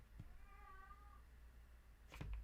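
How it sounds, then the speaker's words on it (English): A house cat meows just outside a door, one drawn-out cry, faint and slightly muffled, followed by a brief thump near the end. "I apologize for my cat right outside the door."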